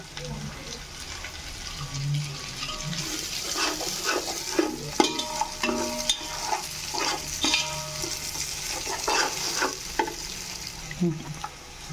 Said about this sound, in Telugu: ఇవన్నీ ఇప్పుడు బాగా మిక్స్ చేసుకొని బ్రౌనిష్ రెడ్ ఇచ్చి వచ్చే వరకు వేయించుకోవాలి